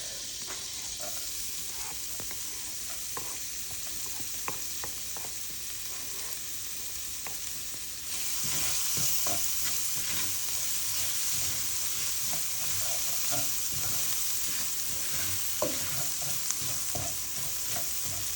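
Garlic frying in butter in a pan for Jamaican-style shrimp pasta: a steady close sizzle that grows louder and brighter partway through, with small pops and crackles as the pan is stirred, and no talking.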